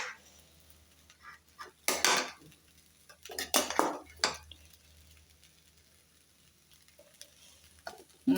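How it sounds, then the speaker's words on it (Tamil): A spoon scrapes and clatters against a pan while ragi semiya khichdi is stirred, in several short bursts with quiet gaps between them. "நல்லா இது வந்து அடி பிடிக்காத கிளறி விடுங்க"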